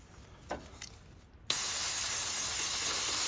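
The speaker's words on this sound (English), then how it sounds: "I'm also put some WD-40 on here on my linkage here." WD-40 sprays onto the throttle linkage of a 1998-2000 Ford Ranger, a few faint handling clicks and then a loud, steady aerosol hiss that continues to the end.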